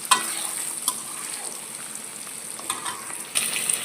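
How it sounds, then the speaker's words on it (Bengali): Paneer cubes fry in a pan with a steady bright sizzle, punctuated by occasional scrapes and taps of a spatula, no voices. "এভাবে আমি দুবার পনির ভেজে নেব।"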